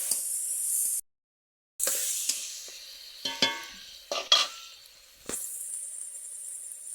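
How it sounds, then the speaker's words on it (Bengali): Dried red chilli paste sautéing in a pan gives a steady sizzle and hiss, broken by a brief silence and scraping stirs, then resuming strongly. "শুকনো লঙ্কা বাটা দেবো।"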